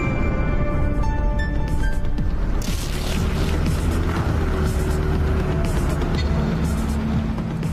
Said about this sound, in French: Soudain, une voiture apparaît et s'approche lentement de la maison.